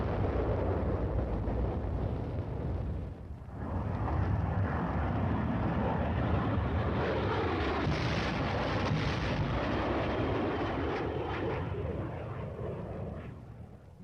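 Napalm dropped from aircraft over a dug-in enemy position, a loud, sustained roaring rumble that fills the scene, briefly dipping near the start before surging on as a continuous blanket of fire and blast noise.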